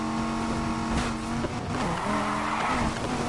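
A Dodge Viper sports car engine in a racing video game drones at a steady high pitch, shifting tone as it accelerates, with a brief tire squeal partway through.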